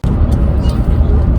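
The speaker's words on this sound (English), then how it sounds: "We are driving home" A car driving home on the road, a steady loud engine and road rumble filling the whole stretch without pause, with faint brief sounds above it.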